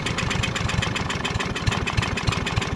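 Craftsman push mulching mower with a Briggs & Stratton 550EX engine runs steadily, a close, continuous putter with a rapid regular firing pulse and faint uneven bumps hinting at a carburetor fault.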